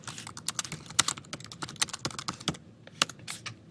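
A comment being typed on a computer keyboard: quick, irregular bursts of crisp key clicks and taps, close and clear, with short pauses between runs.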